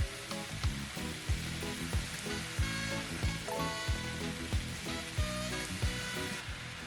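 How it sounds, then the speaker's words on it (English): Shrimp and egg fried rice made with day-old basmati sizzles and fries loudly in a pan over a high flame, with steady bright crackle and rhythmic thumps as it is tossed, no talking. "Whenever you make fried rice, it's always a good idea to cook it on high flame and keep tossing it around."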